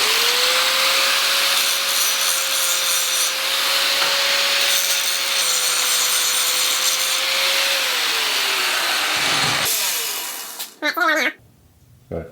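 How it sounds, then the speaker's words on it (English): An angle grinder cleans up the rough-cut end of a round steel tube for a custom motorcycle, giving a loud, steady high whine with a grinding rasp that runs for about ten seconds before winding down, followed by a few short metallic clanks. "now I'm gonna go ahead and clean this thing up a little bit with the grinder"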